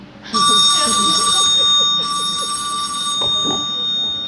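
A telephone rings in steady repeated bursts, loud and close, while voices talk over it throughout.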